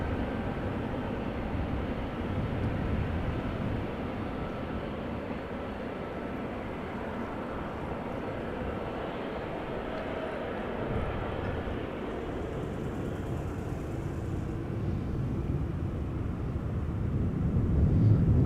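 A United Airlines 787 Dreamliner approaches to land on runway 27 at Amsterdam Schiphol, a distant steady jet roar that holds evenly and swells slightly louder toward the end, with no voices.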